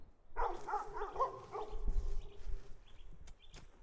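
Dogs in an abandoned village let out a quick burst of several loud barks close by, then quieter distant yips and a few sharp clicks as the barking trails off.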